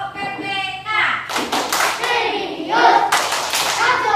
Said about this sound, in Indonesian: kita melaksanakan yang namanya tepuk PPK